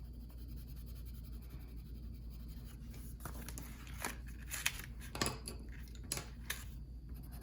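A colored pencil is shaded hard across paper using the side of the tip, giving a faint, steady scratchy rasp with a few sharper scrapes and taps, no talk.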